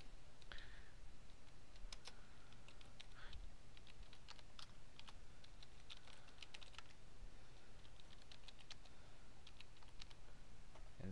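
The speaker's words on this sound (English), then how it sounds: "what you need to do is you need to type in your email that you signed up for" Keystrokes on a computer keyboard while an email address is entered, a steady run of faint, quick clicks over a low background hum, with no talking.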